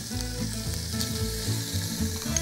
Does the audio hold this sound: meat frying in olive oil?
yes